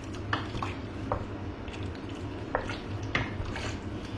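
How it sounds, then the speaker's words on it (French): A spoon stirs pigeon civet with eau de vie, carrots and bay leaf in a pot, giving a few soft scraping clinks over a low, steady background hum, close and fairly quiet. "je touille tout ça pour un peu tout mélanger"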